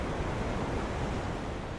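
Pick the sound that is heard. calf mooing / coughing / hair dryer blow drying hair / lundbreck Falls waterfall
lundbreck Falls waterfall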